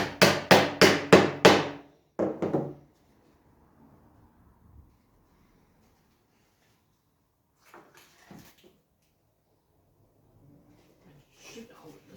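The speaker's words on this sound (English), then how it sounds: "That's what we've got a little hammer for." Small hammer driving nails into a toilet roll holder during a home project: five quick, loud, close hammer strikes in a steady rhythm, then two softer taps, followed by near silence with faint handling and brief quiet speech.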